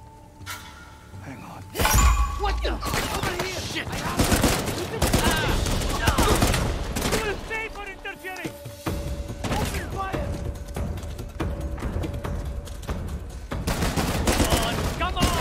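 Bursts of gunfire from a semi burst-fire gun in the video game Uncharted: The Lost Legacy, loud sharp volleys repeating through the scene with clinks and thuds between them and a voice talking at times.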